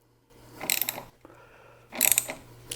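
Ratcheting clicks from loosening bolts on the side case guard hangers of a 2018 Yamaha FJR1300ES motorcycle, two close bursts of mechanical rattling separated by a quieter pause, with a low steady hum underneath.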